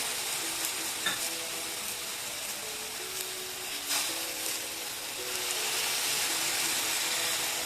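Okra curry simmering and sizzling in a pot as tamarind pulp goes in, a steady broad hiss with light stirring clinks throughout; no talk.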